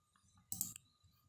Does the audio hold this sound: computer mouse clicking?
yes